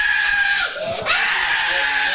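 A young girl, badly burned by a bomb blast in Gaza, screams and wails in pain in a hospital, her cry loud and close, rising, breaking briefly and then continuing.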